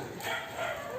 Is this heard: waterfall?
no